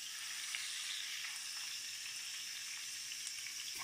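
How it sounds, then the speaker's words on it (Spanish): Pieces of oxtail browning in a frying pan give a steady, even sizzle of hot oil close by, with no voices. "Acordaros de dorar también todo el lateral de cada pieza."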